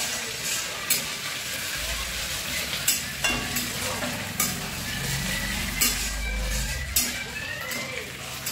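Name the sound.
frying fresh ginger in a pan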